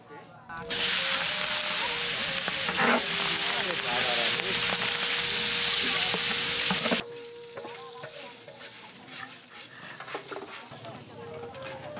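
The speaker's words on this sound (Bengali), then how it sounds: "লবণ, হলুদ, তেল হিট হয়ে গেছে, মাছগুলো ভাজবো।" Fish seasoned with salt and turmeric hits hot oil and sizzles loudly in a steady hiss for several seconds, then the sizzle drops to a softer background crackle with faint clatter and movement.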